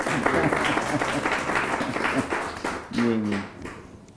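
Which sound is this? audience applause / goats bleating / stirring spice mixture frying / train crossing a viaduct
audience applause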